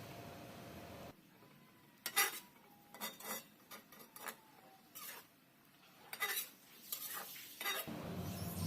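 A utensil stirs and scrapes water spinach stir-fry in a pan, giving a run of clinking metallic scrapes and taps at an uneven rhythm over a soft sizzle, close up and with no talking.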